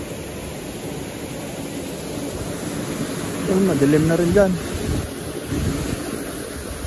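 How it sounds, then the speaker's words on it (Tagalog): Strong storm wind gusts by the sea in a typhoon, a steady broadband roar under someone speaking, swelling louder in the middle. "Lakas na ng hangin, oh."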